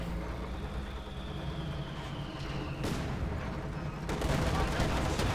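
A tank cannon fires in Company of Heroes 2, a real-time strategy game, with two sharp loud blasts a little over a second apart, over steady engine rumble and battle noise.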